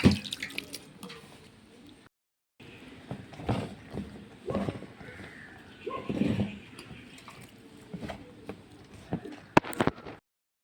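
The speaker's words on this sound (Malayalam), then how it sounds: "കുറേശ്ശെ വെള്ളം എടുത്ത് ഇങ്ങനെ തളിച്ച് പിന്നെ കുഴയ്ക്കേണ്ട" Water sprinkled a little at a time onto flour while it is mixed and kneaded by hand, giving soft, close drips and wet patting sounds in uneven bursts separated by brief pauses.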